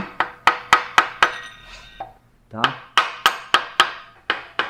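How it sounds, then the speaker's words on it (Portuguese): Light taps of a nylon-faced hammer seating a cylinder sleeve in a Gurgel engine: a steady run of close, sharp knocks, a brief pause with a voice, then another even series of taps. "E para isso eu vou ter que dar pequenas pancadinhas aqui"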